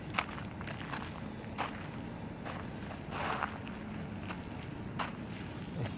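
Footsteps crunch outdoors at night in an irregular walking rhythm, close to the microphone, with a faint wind rumble underneath.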